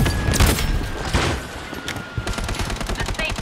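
Defensive turret firing in the battle royale shooter Blood Strike, a few heavy booming shots early and then a quick rattling stream of rounds, loud and near, with game effects mixed in.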